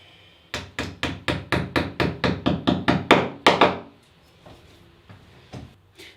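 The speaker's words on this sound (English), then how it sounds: "you will need a hammer just to gently tap that in." A hammer gently taps a masonry plug into a wall about fourteen times in a quick, steady rhythm, sharp knocks close by, then stops, leaving a quiet room.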